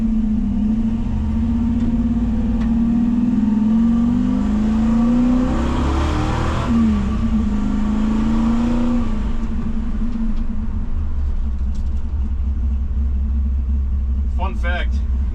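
A 1961 Ford F100 hot rod pickup with an untuned carburetor and ignition timing runs and drives, its engine a steady close rumble whose pitch rises and falls as it accelerates and eases off, with a brief chirp at the end.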